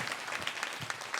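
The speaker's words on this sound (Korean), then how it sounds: "박수 한번 쳐요." A church congregation claps in a short, dense burst of applause, moderately loud and close.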